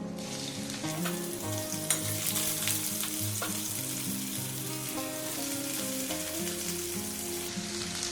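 Bitter gourd hitting hot oil tempered with fennel seeds and dried red chilli, a continuous bright sizzle and frying hiss under steady background music, with occasional stirring.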